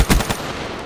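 A KVK 99 fires a quick burst in Black Ops 3, two or three loud, close, sharp reports within a fraction of a second, followed by a short decaying tail, with no talk.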